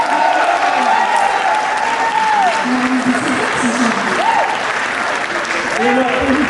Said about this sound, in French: Je vous prends en demande de faire un tonnerre d'applaudissements à M. Kamel Santi.